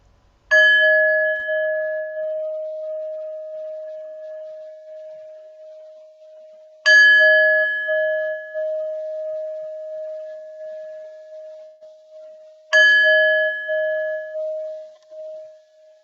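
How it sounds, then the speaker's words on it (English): A meditation bell is struck three times at even intervals, each clear ringing tone sustained and slowly fading before the next strike, loud and alone in a quiet space. "we will be beginning here with 3 sounds of the bell"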